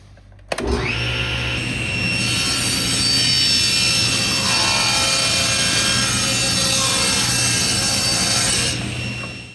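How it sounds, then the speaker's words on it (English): A power saw spins up abruptly and cuts through a plywood panel in a woodworking shop, giving a loud, sustained high-pitched whine and rasp close by, which eases near the end as the cut finishes. "Grab a plywood panel and cut it to 18 inches wide."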